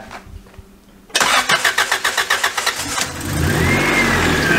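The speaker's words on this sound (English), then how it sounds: "You should film the startup over there so you can see the engine not move." A turbocharged Honda engine with a cheap eBay turbo kit starts up close by: a quiet lead-in, then a loud starter crank of about a dozen rhythmic pulses before it catches and settles into a steady running roar.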